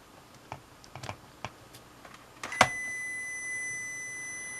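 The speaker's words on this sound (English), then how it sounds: "I've set it to buzzer. But I've got a continuity across these wires." Multimeter continuity buzzer on a Cambridge Audio Topaz AM1 amplifier repair bench: a sharp steady beep cuts in after a few scattered handling clicks and holds for about a second, then fades out.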